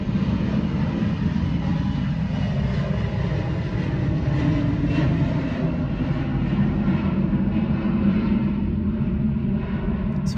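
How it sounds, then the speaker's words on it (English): An airplane flying overhead produces a continuous low rumbling engine drone, steady and fairly loud throughout, with no voices. "There's a plane, just one sec"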